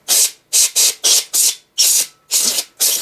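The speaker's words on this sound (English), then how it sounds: "now I'm going to spray the darn thing out and clean it up" Cleaner sprayed into a ventless gas heater in a quick series of sharp, close hissing bursts, about eight short spurts separated by brief pauses.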